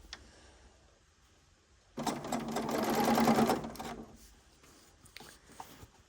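A serger sewing machine stitches a fabric strip for a Celtic knot project, running in one steady, fairly close burst of about two seconds that rises out of quiet room tone and then fades back down.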